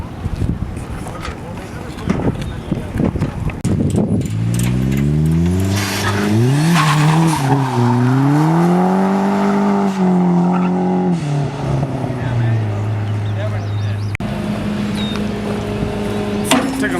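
A car slides through a street drift, its engine revving and wavering in pitch while the tires squeal, loud and close, with voices talking over it.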